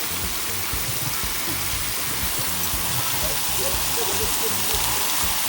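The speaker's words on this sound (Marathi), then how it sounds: "तुम्ही पण बघताय वरती पावसाकडे" Steady, dense artificial rain hiss on a TV serial set fills the whole stretch, with voices murmuring faintly underneath.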